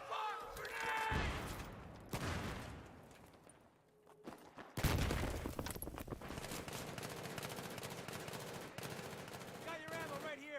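Battlefield 3 combat on PS3 with loud, continuous gunfire and machine-gun bursts, a sudden heavy grenade blast partway through, followed by sustained rapid shooting, with shouted voices mixed in.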